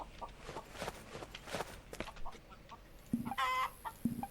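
Chickens cluck from smuggled cargo in the video game Contraband Police, with a few short clucks and squawks near the end over a bed of game ambience and scattered thuds.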